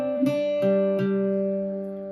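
Irish bouzouki plucking the opening phrase of the jig The Hag at the Churn, three bright ringing picked notes with sustained open drones, played alone and close.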